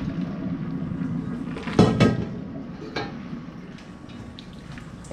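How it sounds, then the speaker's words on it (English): Macaroni noodles and cooking water drained through a strainer into a sink, a soft running-water wash under a couple of sharp metallic clanks from the strainer and pot, then quieter trickling. "go ahead and just drain all the water out of there with a strainer"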